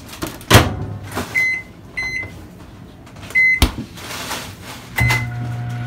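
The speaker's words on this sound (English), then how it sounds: "we'll put it in the microwave for 1 minute and 30 seconds" A microwave oven being set to heat mug cake batter: a door thump, several short keypad beeps, then a low steady hum as it starts running, heard close with no talking.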